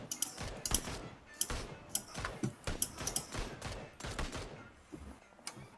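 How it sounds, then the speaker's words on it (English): Suppressed gunshots in PUBG, heard as a string of sharp, muffled cracks at irregular intervals, roughly a dozen over a few seconds, fairly faint and distant, with no talking. "We got suppressed shots coming from our right."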